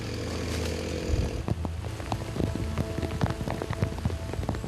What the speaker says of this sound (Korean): 급기야 하나둘 떨어지기 시작하는 빗방울.